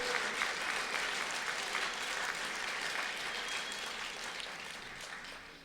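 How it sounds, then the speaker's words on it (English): Steady applause from an audience for a storyteller at an evening storytelling event, dense continuous clapping that slowly fades toward the end. "Round of applause."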